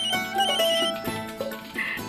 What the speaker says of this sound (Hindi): सचमुच सुधीर जी का फोन है?